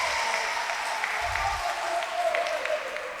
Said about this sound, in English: Khadija deserves a bigger round of applause, ladies and gentlemen